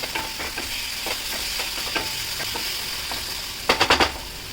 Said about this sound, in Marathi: अद्रक, लसूण, मिरची टाकून घ्यायची. ते चांगलं तेलात परतून घ्यायची.